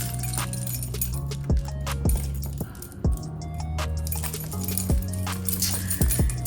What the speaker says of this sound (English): So I'm gonna take my car keys off.